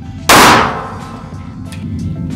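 A Nighthawk Custom pistol fires a single hollow point round, a sharp loud crack that rings out and decays over about half a second, followed by quieter room noise and a few faint knocks.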